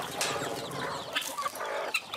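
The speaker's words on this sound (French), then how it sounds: "une soixantaine de poules caquettes" Around sixty hens behind a farmhouse, a busy overlapping chorus of clucks and short squawks at close to mid distance, with a few sharper calls standing out.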